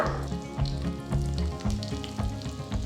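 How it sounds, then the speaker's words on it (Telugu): Mustard seeds splutter and crackle in hot oil for an Andhra tempering with crushed garlic, dried red chillies and asafoetida, a steady loud sizzle with dense rapid pops close to the pan. "సో ఆవాలు చిటపడలాడుతున్నాయి"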